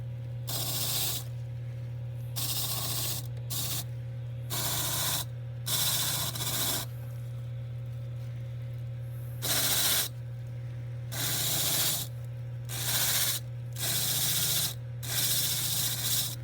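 A wire wheel scrubs metal in repeated bursts of loud abrasive whirring over a steady motor hum, with short pauses between passes.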